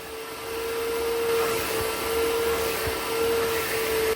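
A Bissell Little Green ProHeat carpet cleaner suctions water from carpet, giving a steady, fairly loud motor whine and airy rush with a sustained tone throughout, no voices.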